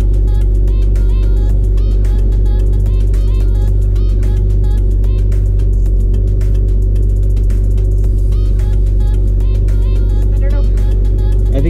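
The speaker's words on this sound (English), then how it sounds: "I think it's just exhaust vibration because you have it welded." Constant loud low droning rumble from a Jeep XJ with a welded exhaust, vibration buzzing steadily through the whole stretch, with faint talk beneath it.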